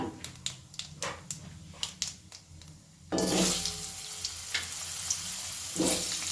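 Light spoon taps on a pan give way to a sudden loud, steady sizzle as diced potatoes hit hot oil over a high flame. The hiss carries on close by with faint stirring underneath.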